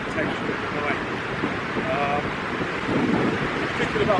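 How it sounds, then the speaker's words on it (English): Steady wind roars at a wild camp among pine trees on a slope near Lussa Loch on the Kintyre Way, a constant broadband rush with slight gusting swells and no clear voices. "It's really windy."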